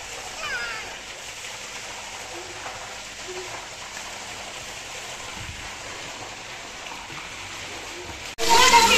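People splash in an outdoor swimming pool, a continuous wash of moving water and splatter heard at a distance, with a sudden loud burst near the end.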